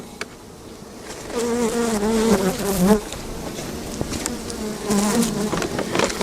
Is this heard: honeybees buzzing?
yes